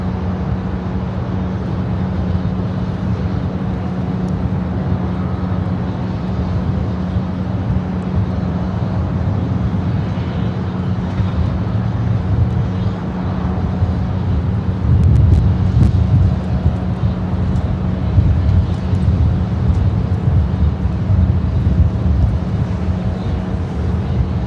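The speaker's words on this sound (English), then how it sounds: "we do have a Dreamliner rolling down to 25 right" A Boeing 787 Dreamliner bound for Osaka takes off on runway 25 right at LAX, heard as a long, steady low jet roar that swells slightly midway, distant and continuous with wind noise.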